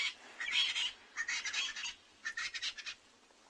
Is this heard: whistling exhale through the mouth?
no